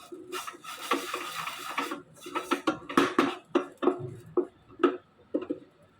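Carrot sevai is mixed with cardamom and coconut in a pan, a run of soft rubbing and scraping strokes with a few light clinks of a spoon against metal, close and fairly quiet, with no voices.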